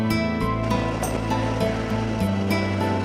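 Ocean surf rolls in at North Bay on the North Yorkshire coast, a continuous wash of breaking waves with a steady low rumble heard from a distance, with no voices.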